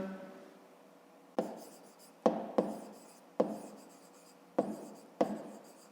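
Pen writing in a notebook during a fifth-grade math exercise: bursts of scratchy strokes arrive in short separate groups, close and fairly quiet, with no talk.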